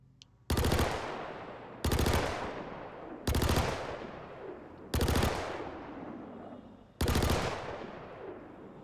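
Lumin V SMG from Klaus and Werner firing in Star Citizen, five separate short bursts spaced about one to two seconds apart, each sharp rattle trailing into a ringing decay.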